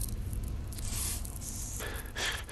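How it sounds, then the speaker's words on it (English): A chemical spray canister hisses in the horror video game Five Nights at Freddy's: Help Wanted, several loud, close bursts of spray over a noisy, busy background, with no talk. "it looks like Chica needs another dose of the chemi spray"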